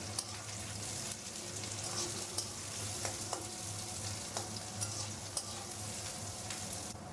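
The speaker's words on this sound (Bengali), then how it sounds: "তেল গরম হয়ে গেছে, কালো জিরে ফোড়ন দিয়ে দেব, সামান্য পেঁয়াজটা একটু ভেজে নেব" Sliced onion and nigella seeds frying in hot oil for a Bengali green-banana-peel paste, a constant soft sizzle with scattered small pops and crackles up close, no talking.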